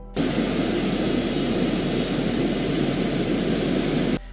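A jet airplane engine in an excerpt from the TV series Pluribus gives a steady, loud, broadband roar that holds evenly for about four seconds and then cuts off abruptly.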